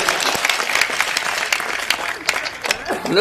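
Audience applause at a Hindi poetry recital about old age, a dense sustained burst of clapping from a crowd, with a voice rising at the very end.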